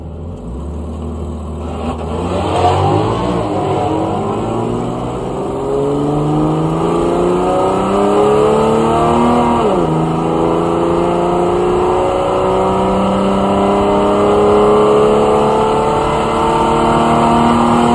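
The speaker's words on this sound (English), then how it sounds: "Then I'll go into the staging lanes and make a nitrous pass." Drag car on a nitrous pass at a drag strip, engine roaring loud and close as it launches and climbs through rising revs, a brief dip at a gear change, then pulls hard again to the end.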